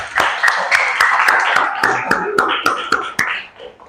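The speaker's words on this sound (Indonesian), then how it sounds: "Beri tepuk tangan yang meriah buat kita semua." A classroom group claps in brief, uneven applause, sharp individual claps landing at close range while voices chatter underneath.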